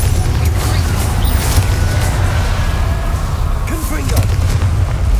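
A Confringo fire spell blasting in Hogwarts Legacy, a dense, loud booming rumble of explosive impact sustained throughout with crackling debris and a faint creak near the end.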